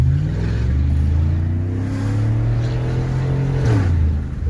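A 1999–2006 Chevy 5.3 V8 Suburban or Tahoe with the muffler deleted, revving loud and close with a deep rumbling exhaust that climbs and drops across the clip.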